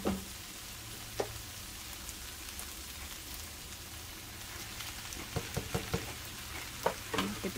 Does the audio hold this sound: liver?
yes